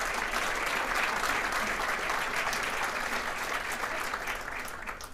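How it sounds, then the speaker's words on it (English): Steady, dense audience applause at a political event in Torrance, many hands clapping together for about five seconds with no talk over it, then slowly fading at the end. "Give him a big round of applause."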